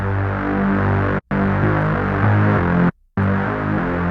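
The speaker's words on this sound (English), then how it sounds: "this detuned, distorted kind of sound" A thick, buzzing detuned synth with gritty distortion plays sustained chords, cutting off abruptly twice before resuming.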